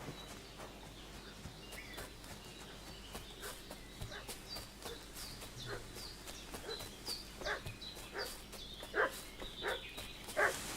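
A dog barks repeatedly in the distance in a medieval village in Kingdom Come Deliverance II, over farmyard ambience with birds and chickens, fairly faint with a few louder barks near the end.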